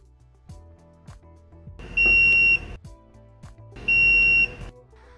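Two loud, sustained electronic beeps from a multimeter testing the fuses of a magnetic drill, each lasting about half a second, spaced two seconds apart over quiet handling noise.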